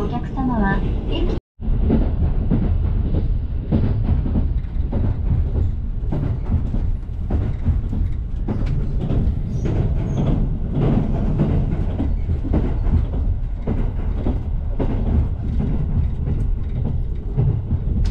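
One-man local train rolling on rails in Kyushu, a steady loud rumble with rhythmic rail clatter after a brief cut near the start, while an onboard voice announcement plays over it.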